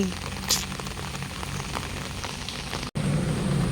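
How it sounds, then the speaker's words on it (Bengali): Steady heavy rain pours down in a continuous broadband hiss, with a brief dropout near the end before the downpour resumes. "আরো জোরে নামছে বৃষ্টি"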